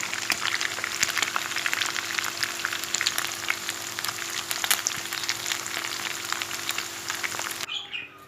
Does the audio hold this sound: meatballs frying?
yes